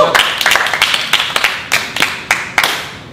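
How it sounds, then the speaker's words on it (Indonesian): Hands clapping together in a lively Indonesian group gathering, a steady run of sharp, close claps at an irregular pace with some overlapping hands, loud and clear without anyone talking over them. "Teman-teman semua, tepuk tangan dulu dong rame-rame biar semangat."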